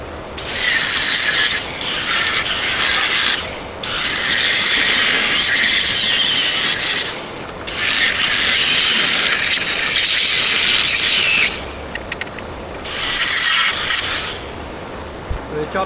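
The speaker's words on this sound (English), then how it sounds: "Now I'm just going to go over to this trailer and cut the guards off that," Metal guards are cut off a steel boat trailer, the harsh hissing bursts of the cut coming in four long, loud passes with short pauses between them.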